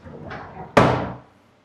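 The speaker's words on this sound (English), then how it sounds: "You got these older style sliding doors." An older-style sliding door in a bedroom of an outdated single-family house is rolled along its track, a short scrape followed by a loud bump as it closes, then a fading ring.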